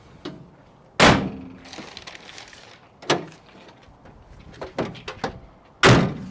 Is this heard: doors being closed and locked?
yes